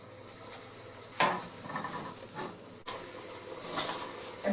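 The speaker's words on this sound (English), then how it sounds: "a bit more stirring, so we can stick at the bottom of the pan" Fried rice with beef cubes stirred in a pan, a utensil scraping and clinking against the metal over a soft sizzle, with two sharper knocks and a steady close rattling throughout.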